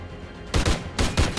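Video game SMG gunfire comes in two loud, rapid bursts separated by a brief pause, close and dominant with no talking.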